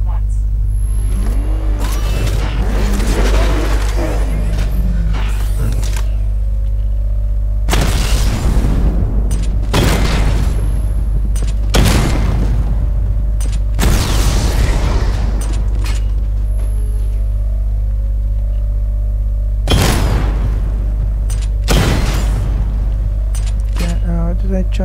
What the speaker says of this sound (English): Charge the missile barrage to level 2 to destroy 4 targets at once.